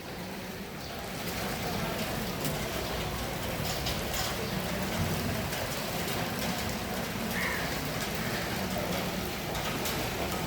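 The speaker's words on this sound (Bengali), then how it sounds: "মানে কি প্রবল বৃষ্টি" Heavy rain falling outdoors, heard as a dense steady roar of drops with faint scattered bird calls over it.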